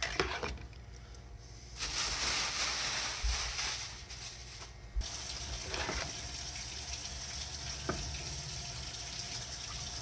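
Water runs steadily from a tap while a rusty surplus gun magazine is washed, a continuous close splashing flow that shifts in tone as the part moves under the stream.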